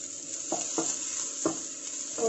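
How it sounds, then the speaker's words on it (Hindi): Onion with ginger frying lightly in a pan for a burger filling, a steady soft sizzle broken by several scraping stirs of a spatula, close and moderately quiet with no talking. "इसे लाल नहीं करना है, बस हल्का भूनना है।"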